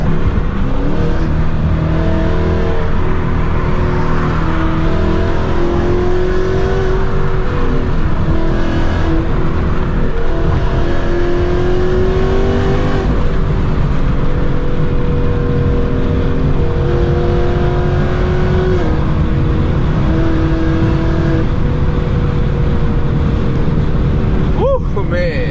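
A Mustang GT with Texas Speed longtube headers accelerates hard from inside the cabin, its loud V8 roar rising in pitch through the gears with brief dips at each shift, sustained and close.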